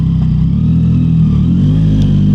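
A loud motorcycle with a loud aftermarket exhaust idles and rumbles close by, its deep throaty exhaust drone steady throughout.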